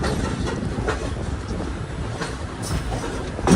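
A train near Siliguri railway station gives a steady rumbling roll with faint rhythmic clatter, mixed with some wind noise and no talking.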